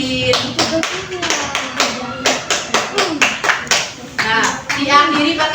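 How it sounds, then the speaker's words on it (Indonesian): Rhythmic Indonesian scout clap (tepuk pramuka) performed by a group of elementary school pupils, a series of sharp hand claps in a steady patterned beat, loud and close, with faint children's voices alongside. "diakhiri pakai tepuk pramuka 1 kali"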